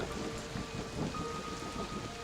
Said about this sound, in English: Anyone else hear that? The thunder?